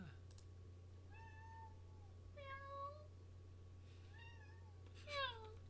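A pet cat meows four times, clear drawn-out cries spaced a second or so apart, over a steady low electrical hum in a quiet room.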